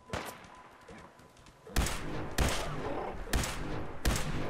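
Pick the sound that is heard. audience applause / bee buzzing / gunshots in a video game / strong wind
gunshots in a video game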